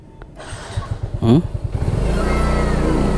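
A motorcycle with a formerly dead battery starts on a single try, then settles into a steady, close idle, right after a voice.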